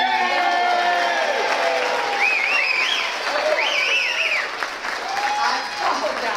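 Crowd at a school athletics event cheers and applauds loudly and steadily throughout, with scattered whoops and yells rising over the clapping.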